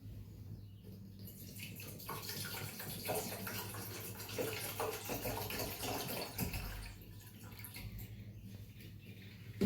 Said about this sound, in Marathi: आपल्याला अर्धा लिटर पाणी टाकायचं आहे